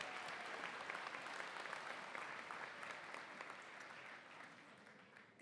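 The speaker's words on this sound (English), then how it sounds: "And could we have another round of applause for Haley Stewart" Steady audience applause fills a hall during a college winter commencement ceremony in Southern Maryland. It is dense, even and moderately distant, then tapers slightly before cutting off.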